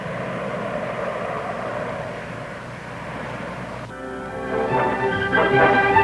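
Convair 880 jet airliner engines give a steady, loud broadband roar that turns brighter and more tonal partway through, with a whining edge swelling toward the end.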